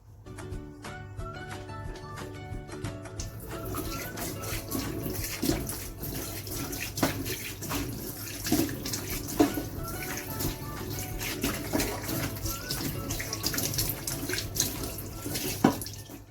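Tap water runs steadily into a kitchen sink being sanitized before washing tilapia fish, a continuous close splashing flow with light clatter and no talking.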